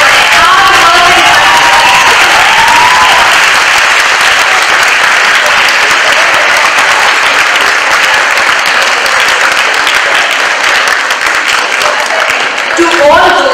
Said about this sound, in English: A big round of applause for their hard work